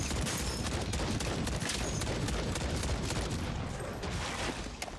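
Rapid, dense gunfire rattles without a break as bullets pour into zombies in MW3 Zombies, a loud continuous burst of overlapping shots with no voices.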